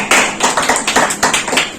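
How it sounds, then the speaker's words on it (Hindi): An audience clapping hands in quick, even unison, a loud, close run of about a dozen sharp claps at a steady rhythm. "ताली बजा के"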